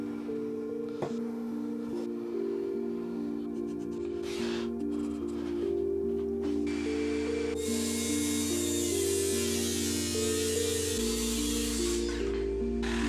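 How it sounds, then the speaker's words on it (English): A jigsaw fitted with a new blade cuts Formica-laminated birch plywood in a test cut, giving a steady buzzing motor whine that shifts pitch partway through and grows harsher and louder toward the end. "I fitted a new jigsaw blade and did a test cut here just to make sure that I wasn't going to get chip out on the Formica"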